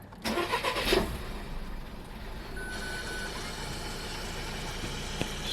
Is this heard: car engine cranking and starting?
yes